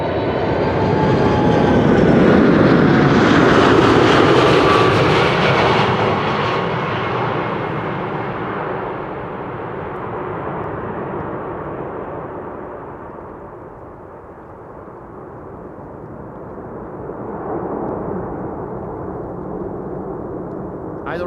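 A Boeing 747 landing at Amsterdam Schiphol with idle thrust reversers on a frosty day, a loud close jet roar with whining engine tones that peaks early, then fades and eases into a softer rumble.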